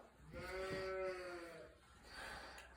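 A lamb bleats once in a wavering, drawn-out cry, followed by a softer second call amid farmyard background noise on a sheep farm during vaccination.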